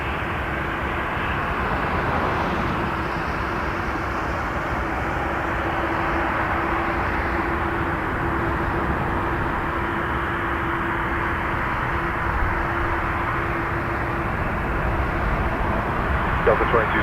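Steady broadband roar of a jet touching down on runway 6 right at Toronto Pearson, heard from a distance as an even, sustained rumble with a faint tone, with radio chatter from the tower running over it.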